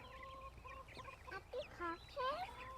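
Golden lace Wyandotte chicks exploring a chicken run, giving high rising peeps and chirps that grow busier and louder toward the end, close by over a low outdoor rumble.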